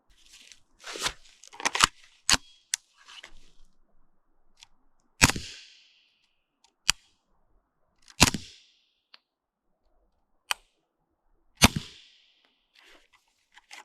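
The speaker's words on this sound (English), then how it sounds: "The suppressor isn't the quietest 9mm can I've ever used or owned, but it's still pretty quiet." Suppressed B&T TP9 9mm pistol firing 165 grain Hush subsonic rounds, about six sharp cracks spaced a few seconds apart with quiet gaps and small mechanical clicks between them, no talk.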